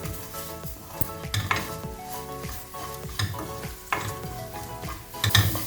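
Sambar powder is stirred into a frying pan for a black sesame and tamarind gravy, with a soft sizzle under repeated metal spatula scrapes and clinks against the pan, moderately loud and wordless.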